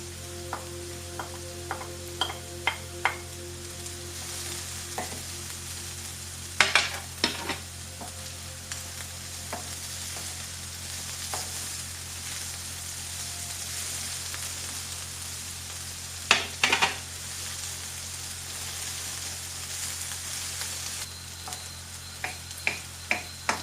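Garlic fries quietly in a pan for stuffed marrow, a soft steady sizzle broken by several sharp scraping clicks of stirring, close and without talk.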